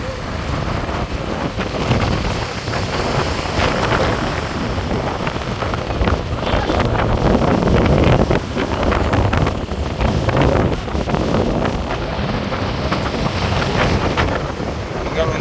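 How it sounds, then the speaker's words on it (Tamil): Rough sea waves surge and crash continuously along a coast next to a main road, with heavy wind buffeting the microphone in a dense, loud, unbroken roar. "பாருங்க கடல் வந்து எவ்வளோ தூரத்துக்கு கொந்தளிக்குது"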